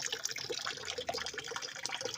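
A mountain spring fed by a tree trickles and drips water, giving a steady, fairly close watery patter with no voices over it.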